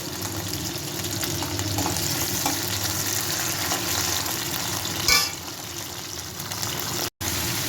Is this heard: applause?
no